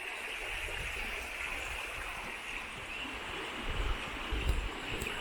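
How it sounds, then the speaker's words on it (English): A babbling brook runs steadily among wild garlic, an even, close rush of water with brief louder splashes near the end and no talk. "taking a walk among the Ramsons and a babbling brook"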